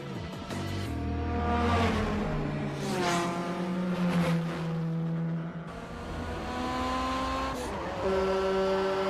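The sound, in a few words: 1993 Honda Civic EJ1 turbo engine in GTA Online video game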